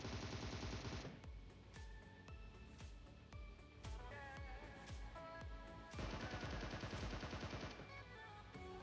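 Gunfight in PUBG Mobile with rapid bursts of automatic gunfire, repeated sharp shots in quick rhythmic volleys, some loud and close with others quieter, continuing throughout with short pauses between bursts.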